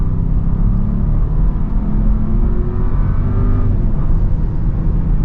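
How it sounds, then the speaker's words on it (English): A four-cylinder turbo SUV engine pulls hard under acceleration, a steady loud drone with turbo whir and road noise throughout, no voices. "It's got a good top end. For a 4-cylinder turbo, this thing ain't bad."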